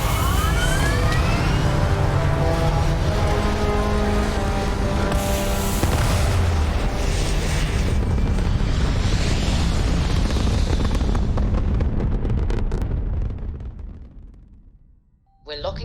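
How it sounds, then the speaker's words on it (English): Spaceship thrusters firing at takeoff in Starfield, a loud sustained roaring rumble with deep booming low end that holds steady, then drops away sharply near the end. "All thrusters firing."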